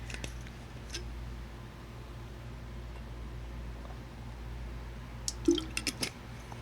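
Someone drinking water in a quiet room: a steady background hum, then a short cluster of wet sips and swallows near the end.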